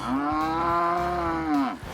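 A single long, loud moo from a roughly 2,100-pound bull on a cattle ranch in Okeechobee County, Florida, holding a steady pitch for nearly two seconds before trailing off, with no talking over it.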